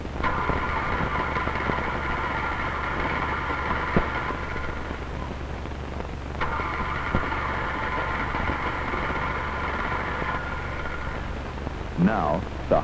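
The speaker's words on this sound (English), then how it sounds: "Now, we'll try to start each engine. First, the 4-cylinder engine equipped with a conventional type of ignition system." 1977 Chevrolet Chevette four-cylinder engine with a conventional ignition system cranking to start, a steady mechanical drone that pauses briefly and resumes, with a low constant hum underneath.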